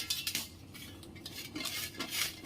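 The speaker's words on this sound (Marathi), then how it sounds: "आता आपण हळदीला खिसणीने खिसून घेऊ" Peeled fresh turmeric root scraped against a metal grater in a kitchen, making several short, rasping, scratchy strokes in irregular bursts, close and fairly soft, with no voices.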